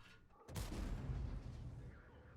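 A single heavy cannon-like boom from a tank gun in a video game bursts out after a brief quiet moment, then rumbles and fades slowly.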